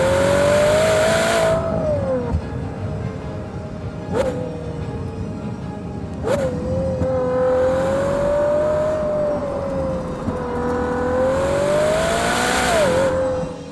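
A Ferrari Purosangue SUV's naturally aspirated V12 revs loud and close, holding a steady high drone that rises and dips across several throttle blips, with a couple of sharp gear-change breaks.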